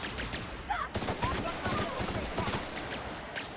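Rapid video game gunfire in The Outer Worlds, a dense clatter of repeated shots at moderate volume with a voice talking over it.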